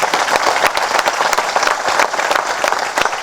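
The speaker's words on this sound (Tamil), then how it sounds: "இப்போ இவங்களை ப்ளஸ் பண்ணுங்கள் நல்லா கை தட்டி." A crowd applauds at a film audio launch, with dense, loud, continuous clapping from many hands throughout and no break.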